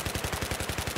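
Rapid automatic gunfire from Battlefield 3's Close Quarters map Donya Fortress, a steady burst of about ten evenly spaced loud shots with no talk.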